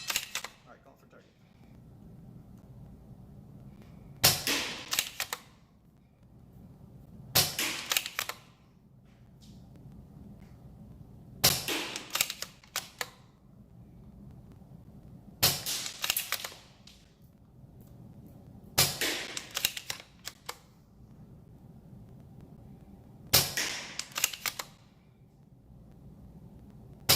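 An Ares Stryker airsoft sniper rifle is fired and cycled in about seven sharp, loud mechanical bursts spaced a few seconds apart, with quieter stretches and faint voices between them.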